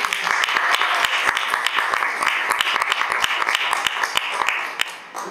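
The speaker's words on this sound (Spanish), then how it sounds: "les pido un aplauso para nuestras dos profes" An audience claps for two teachers at a feminist school session, a dense run of sharp overlapping claps that holds steady and then tapers off near the end.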